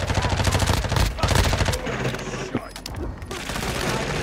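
Video game gunfire in an online match: rapid bursts of automatic fire crackle loudly for the first seconds, then scattered single shots and a brief pause before more firing, with players talking over it.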